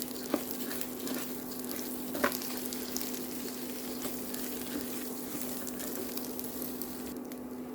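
Rice being stirred and mixed with prepared ingredients and fish in a cooking pot, a soft, steady sizzling and scraping texture with a faint hum and an occasional light knock, quiet and continuous.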